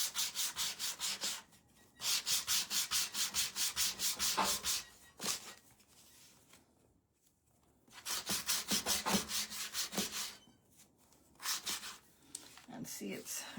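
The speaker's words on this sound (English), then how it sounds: "you want the strokes of your sandpaper to kind of look like it's together" Sandpaper rubbed by hand in quick, rhythmic back-and-forth strokes during a craft project, several bursts of fast scratchy rasping separated by quiet pauses, fairly close and soft.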